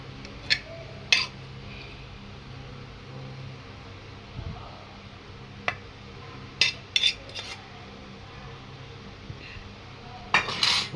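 Caramelized chicken with onions goes onto greased pizza trays amid scattered sharp clinks of metal utensils and pans, several isolated knocks spread over a quiet kitchen.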